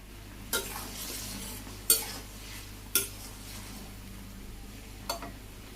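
Okra curry simmering in a pot in a Bangladeshi village kitchen, a soft continuous bubbling hiss with four sharp utensil clinks against the pot at irregular intervals.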